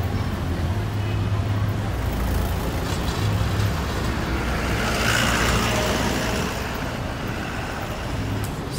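Downtown street traffic in Bacolod City with passing jeepneys: a steady, broad rumble of engines and road noise, with low droning motors and occasional hiss rising and falling as vehicles go by close to the listener.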